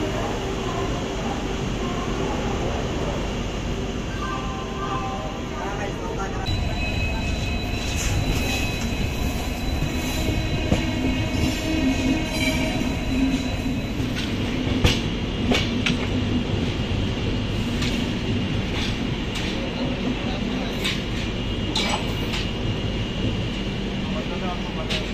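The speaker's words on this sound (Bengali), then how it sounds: "ট্রেন কিন্তু নো ডিলে, মানে ট্রেন পুরো পারফেক্ট টাইমে, অন টাইমেই চলছে" The SMVT Bengaluru–Kamakhya AC Superfast Express, heard from inside an AC three-tier coach, gives a steady loud rumble and rolling rail noise with faint clicks of wheels over joints throughout.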